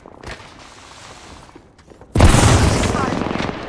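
Apex Legends gameplay with rapid gunfire and explosions. A quieter stretch of shooting gives way to a sudden, loud burst of sustained firing and booms, while a game voice speaks over it.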